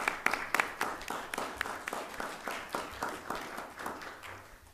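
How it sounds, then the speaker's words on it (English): A small audience at a board of regents meeting claps for staff, a faint, sparse patter of distinct hand claps that thins out gradually. "I appreciate a round of applause for them"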